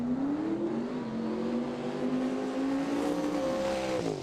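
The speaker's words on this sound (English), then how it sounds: "Two nice strong burnouts for both of these cars." Two drag racing cars, a Vauxhall and a Duster, do burnouts at a British Pro Mod event, making a loud, sustained engine roar with rising and falling pitch and a sharp drop near the end.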